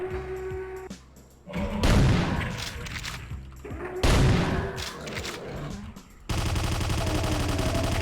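Enemy gunfire in Doom played with the Final Doomer mod: loud blasts of shots and explosions burst out around the middle, separated by quieter gaps, then give way to a steady buzzing noise at the end.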